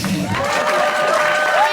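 A stand-up comedy audience bursts into brief applause mixed with cheers and a whoop, loud and close, lasting under two seconds.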